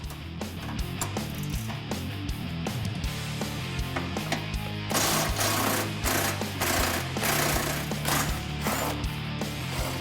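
A ratchet removes 15mm cross member bolts and 18mm nuts on a Ford F-150 with a 3.5L EcoBoost during an exhaust upgrade, making a steady, rapid stream of close clicking that runs through the whole stretch and grows busier midway.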